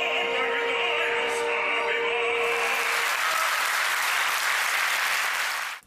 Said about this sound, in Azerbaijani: ifaları gürültülü alqışlarla qarşılandı